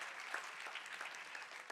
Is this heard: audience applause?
yes